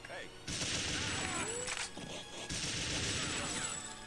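Rapid automatic gunfire from a new weapon in the video game TimeSplitters 2 comes in two loud, sustained bursts separated by a short pause, with a few whooshing game effects layered over the shots.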